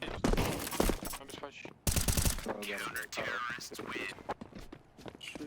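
Counter-Strike 2 gunfire, with sharp bursts of shots and rapid footsteps mixed under steady, prominent talking.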